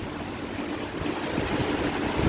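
Hurricane Ian winds gusting at roughly 80 miles an hour make a continuous broad roar of rushing air that swells slightly toward the end, with no voices.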